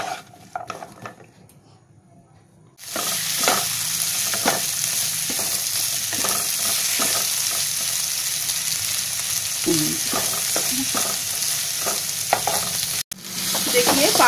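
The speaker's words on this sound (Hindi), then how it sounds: "और अब हम इसमें ये प्याज, टमाटर और लहसुन डाल देंगे और इसे अच्छी तरह धीमी फ्लेम में" Chopped onion, tomato and garlic fry in a little oil over a low flame, with a steady loud sizzle after a quiet start and occasional spoon stirring and scraping against the pan.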